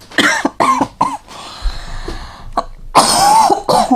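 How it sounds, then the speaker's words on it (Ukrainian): A person coughs repeatedly in close, loud bursts with throat clearing between them, a few separate hacking fits spread across a few seconds during an indoor conversation. "Довінуйся кашляти."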